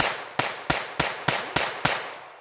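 A Taurus TX22 pistol fires seven sharp cracks in quick, evenly spaced succession, each loud and close with a short ringing tail.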